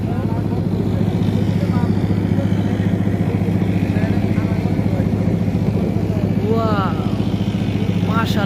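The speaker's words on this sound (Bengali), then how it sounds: "এটা বালু কাটা নৌকা।" A sand-dredging boat's engine drones loud and steady by a river, its low rhythmic thrum running unbroken throughout while someone talks over it.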